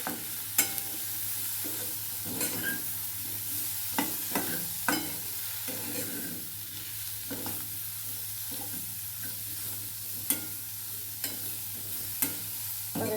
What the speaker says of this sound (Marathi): आणि छान हलवून घ्यायचं एकत्र सगळं करायचं